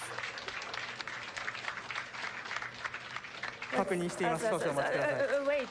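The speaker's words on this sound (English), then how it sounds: "What's this applause?" Applause breaks out in the Hayabusa2 mission control room during the capsule return, a dense wash of clapping for several seconds before a voice begins speaking over the tail of it.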